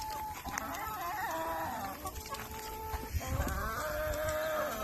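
Chickens cluck and call in a backyard pen on a Texas homestead, with overlapping squawks and warbling calls running steadily throughout at close range.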